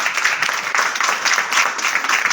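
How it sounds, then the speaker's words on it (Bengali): Loud, dense applause and clapping from a crowd, steady and close, filling the whole moment without pause. "একটা হাততালি জোরে জোরে জোরে হাততালি হচ্ছে"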